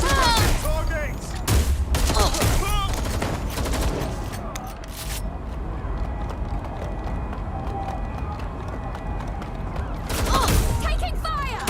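Firefight in Watch Dogs: Legion: rapid volleys of gunshots crack back and forth in heavy bursts, loud and close, with a sustained busy background and a voice shouting over the action.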